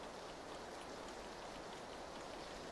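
Steady rain in PUBG: Battlegrounds, a faint, even hiss of drops falling on surfaces that continues without change, with no voices present.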